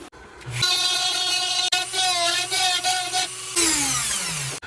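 A power sander whines steadily for a few seconds while abrasive grinds against a wooden walking stick, pitch shifting as the pressure changes, then winding down at the end.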